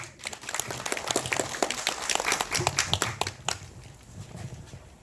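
Audience applause welcoming a co-chair to the podium at a legal and tax compensation briefing session, a dense patter of clapping that fills the room, then thins and fades toward the end.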